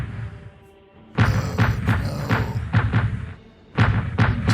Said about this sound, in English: Oh, Turkish artillery.